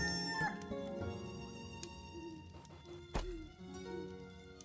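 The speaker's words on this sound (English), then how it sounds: "Do you hear the invisible chickens? We don't have any chickens, but we can still hear them." Chickens cluck and a rooster crows in the Stonehearth video game, faint and distant beneath a busy game ambience with soft thunks and one sharp knock, no voices.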